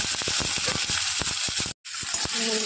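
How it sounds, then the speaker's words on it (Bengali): Green chillies and tomato sizzle in a little oil in a pan, a steady crackling hiss punctuated by sharp pops and spatters, close and fairly quiet, with a brief dropout partway through. "দেখুন তেল দিয়ে দিলাম, বেশি আমি অল্প তেলই দেবো। কাঁচা লঙ্কা টমেটো দেবো।"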